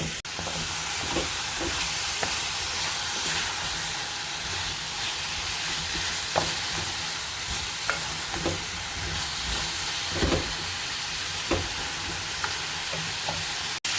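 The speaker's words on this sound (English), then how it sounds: "as soon as this begins to sizzle, and you can see it's beginning to get dry at the bottom of the pan, we add in a little bit of water." Vegetables for a veggie biryani sizzle and fry steadily in a pan, a constant hiss with occasional stirring clicks and scrapes, close and continuous without talk.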